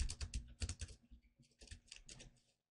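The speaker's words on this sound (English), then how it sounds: "Sorry about the keyboard spam." Rapid computer keyboard typing and key mashing during a Dwarf Fortress session, close and clicky, in dense bursts of keystrokes with short pauses and no talk.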